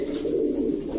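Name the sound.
Pakistani Siraj pigeon cooing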